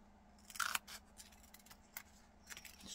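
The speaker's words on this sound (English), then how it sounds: "So just get some Velcro, cut some little squares" Scissors snip through Velcro to cut small squares, giving a few quiet, close crisp cuts and light crunches against a faint background hum.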